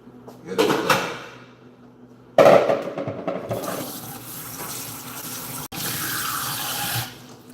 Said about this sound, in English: More water in there.